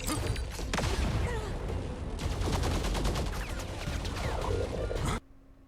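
Rapid gunfire from a video game firefight, a dense, loud stream of overlapping shots and impacts running for about five seconds before cutting off abruptly to quiet.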